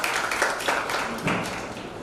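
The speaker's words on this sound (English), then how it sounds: "We request you all kindly welcome Mr. Prashant Patenkar with our applause." An audience at a study circle meeting applauds to welcome a speaker: a short burst of continuous clapping from a room full of people, fairly loud and even, with no voices over it.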